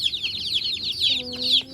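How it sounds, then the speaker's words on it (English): Dense, high-pitched peeping from a crowd of baby chicks, continuous and overlapping, with a brief lower tone near the end. "Looks like we got 20 chicks."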